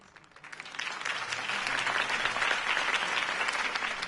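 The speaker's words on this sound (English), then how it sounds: "If only Mr. Wayne, my campaign's largest backer, could have heard that applause" A crowd applauds after Harvey Dent's campaign speech in Batman, with clapping swelling in from quiet to a dense, sustained ovation that holds steady to the end.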